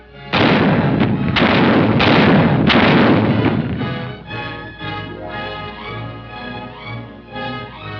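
Heavy artillery fires in a 1945 World War II setting, several loud booming blasts in quick succession that roll off into a long echoing rumble, with no voices.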